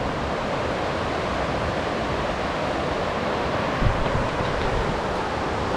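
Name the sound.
waterfall, Whispering Falls in Oregon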